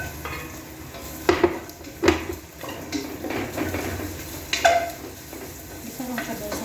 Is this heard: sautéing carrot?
yes